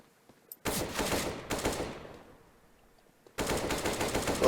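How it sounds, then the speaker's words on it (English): AK rifle gunfire in a Counter-Strike: Global Offensive tournament match, loud close bursts of automatic fire in three volleys separated by brief quiet gaps, with no talk over it. "Little pop shots here and there."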